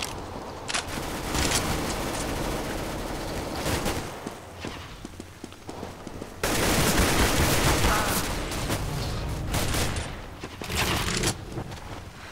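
Gunfire from a Counter-Strike: Global Offensive deathmatch rattles in bursts of rapid shots and scattered single cracks, moderately loud, over steady game ambience with footsteps.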